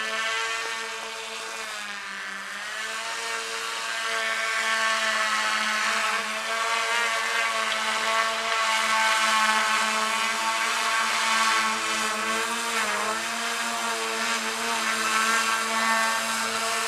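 A WingtraOne fixed-wing VTOL survey drone hovers and descends to land, its rotors giving a steady, buzzing whine with strong tonal harmonics that shifts pitch early on and then holds loud and even.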